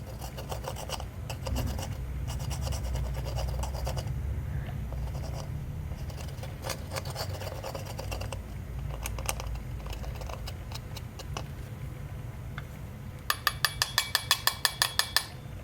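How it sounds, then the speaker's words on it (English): Broken bronzer makeup is scraped with a metal cuticle nail tool, giving soft close-up rasping and scratching strokes, then a quick run of sharp taps near the end. "And I'm gonna scrape this off, I think."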